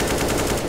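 Rapid automatic gunfire in Counter-Strike: Global Offensive, a close, loud, evenly paced burst of shots filling the moment without pause.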